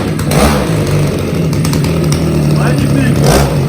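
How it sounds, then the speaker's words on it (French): A petrol-powered kick scooter's small engine buzzes and revs up close, rising and falling in pitch, while people talk excitedly over it. "Accélère là, cette trotte."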